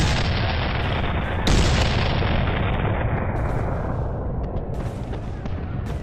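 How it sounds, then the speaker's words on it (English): Cannon fire in a battle scene, a dense continuous roar of booming blasts and rumbling explosions that fills the whole stretch, loud and close, with no voices heard. "The cannons give the men just enough time to reload."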